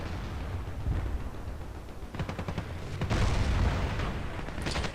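Assault rifle gunfire in the shooter game Battlefield Play4free, with bursts of shots and booming impacts, loud and close, swelling heavier toward the end with no talking.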